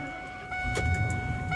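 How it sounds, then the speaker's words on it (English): An old Ford F350 pickup with a V10 gasoline engine and five-speed stick shift cranks and fires up, a low rumbling start swelling close by after a brief quiet moment. "I'm gonna go get Luke's rig running."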